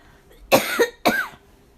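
A person gives two quick, harsh coughs in succession, close and loud, with no talk around them.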